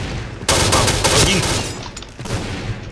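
Point Blank gunfire crackles in a loud, rapid burst that trails off, followed by another shorter burst.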